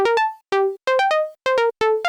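A Serum synth pluck recreating the one from a track: short, bright, harmonically rich notes in quick pairs and singles with gaps between, dry and loud on its own.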